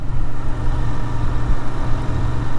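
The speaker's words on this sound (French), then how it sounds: "Bicylindre en ligne, on a le petit grondement du bicylindre." A 2023 Royal Enfield Interceptor 650 with its inline parallel-twin engine gives a low, steady rumble while riding, an even mid-level drone with no talk over it.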